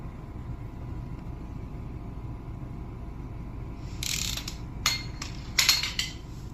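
A 14mm socket on a ratchet works loose a rusty gas tank strap bolt on a Honda Civic, giving a few short, close metallic clicks and scrapes near the end after a steady low background rumble.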